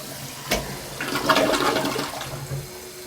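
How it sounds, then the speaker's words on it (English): A toilet flushes with its lever held down, water rushing loudly from the tank in a full surge that builds, sustains and then tapers off, heard up close with no talking. "you have access to all the water in the tank simply by holding the lever down when you go to flush"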